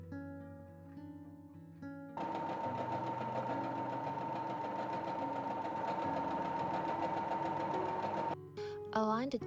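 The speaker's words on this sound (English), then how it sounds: "Next, we're gonna stitch the short ends right sides together with 1 centimeter seam allowance." Sewing machine stitching the short ends of a fabric scrunchie, a steady rapid mechanical whir starting after a quieter moment and running evenly before stopping, with faint voice or music in the background.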